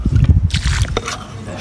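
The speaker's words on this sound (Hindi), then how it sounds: "चलो अब इसमें पानी डालते हैं।" Warm water is poured into a texture paste mix, giving wet squishing and sloshing sounds with gurgling spurts up close, loudest at the start and easing off.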